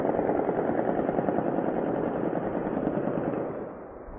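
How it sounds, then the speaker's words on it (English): Intense, sustained automatic gunfire aimed at Israeli helicopters evacuating troops after a landing operation at Nabi Sheet near Baalbek, a dense continuous rattle of rapid bursts that stays loud throughout and fades slightly at the end. "Ooh, is intense gunfire targeting Israeli helicopters attempted to evacuate the forces involved in the landing operation in Nabi Sheet"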